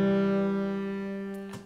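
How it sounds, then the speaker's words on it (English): A single sustained synthesized keys chord from an MPC Live 2 key group, smooth and mellow with rich harmonics, fading slowly over under two seconds with a faint click at the end. "And on track 2 I have a synthesized sound which sounds like this."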